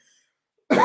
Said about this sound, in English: now I got a mad, nasty ass cough